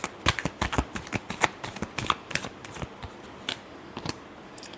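Tarot cards are shuffled in quick bursts of crisp riffling and snapping, a rapid irregular series of close, fairly soft card flicks with no talking.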